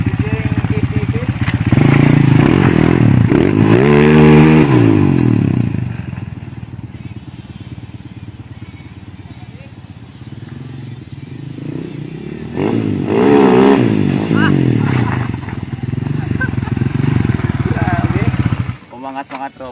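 A motorcycle fitted with a 30mm GT-R racing carburetor revs hard and loud up close, with a long high-rpm run, a dip to a rough idle, then another burst of revving, while someone talks over it.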